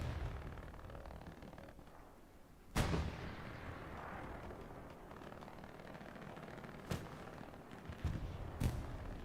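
Rockets and shells strike during a competitive Hell Let Loose match, with several sharp blasts spread over a steady low battlefield rumble, one heavy impact followed by smaller bursts later.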